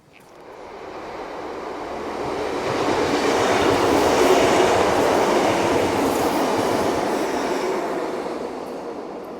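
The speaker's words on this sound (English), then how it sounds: "A train camouflaged by the fence." A train rolls past below a bridge on a summer day at Dawlish, a broad rushing rumble that swells in over a couple of seconds and holds steady until the end.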